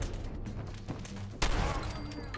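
A gunshot in the Fallout 4 game during the Gilded Grasshopper quest lands as one abrupt, loud blast with a ringing tail over a busy background of game sounds.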